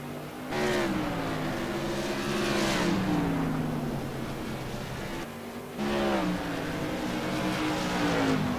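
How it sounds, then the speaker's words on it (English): Modified race cars lapping South Boston Speedway, engines rising and falling in two long passes, distant and moderately loud with a steady roar between them, no talk. "Bunden's running kind of an inverse line to what Mecca's running, setting up for a possible inside pass in turns 1 and 2."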